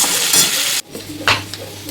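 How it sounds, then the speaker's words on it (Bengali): Shrimp and bottle gourd leaves fry in a pan, a loud sizzling hiss that cuts off abruptly, then quieter crackle with a brief stirring scrape. "তো চলো এটাকে একটু ভালো করে ভেজে নিই।"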